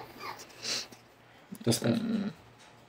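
A three-month-old cinnamon Pomeranian puppy at a pet shop gives a brief whimper, then a short low growling burst, close by with faint voices in the background.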